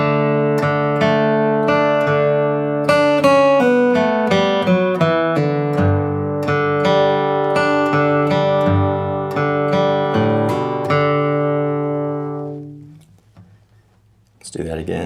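A twangy country guitar riff with quick picked notes and bending lines, ringing out clearly before fading, then a brief new strum at the end.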